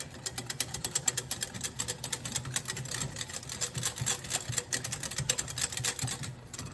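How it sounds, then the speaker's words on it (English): Pumpkin caramel tart filling is whisked briskly in a bowl, a fast, steady clatter of wire against the sides that runs continuously and close without any talk. "Grab a whisk, and I'm going to whisk it."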